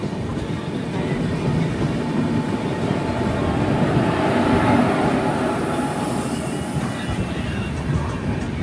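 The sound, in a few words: train arriving at Ramagundam railway station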